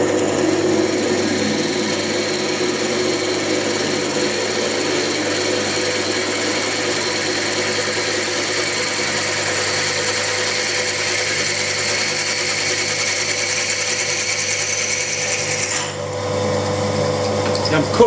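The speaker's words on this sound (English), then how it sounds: "I'm cutting it dry because cast iron is self-lubricating to a certain degree" A power saw cuts dry through cast iron with a steady, continuous grinding hum and a bright metallic whine, holding evenly before stopping abruptly near the end.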